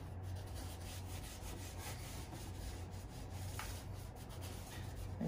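Lemon oil is rubbed into the wood grain of a guitar fretboard, a soft, steady close-up scrubbing friction, quiet and continuous with no talk.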